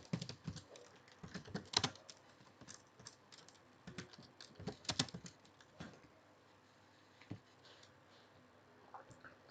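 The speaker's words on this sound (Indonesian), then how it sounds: "kita ketikkan Mendeley Web" Close, faint typing on a computer keyboard: irregular bursts of quick key clicks with short pauses, tapering off toward the end.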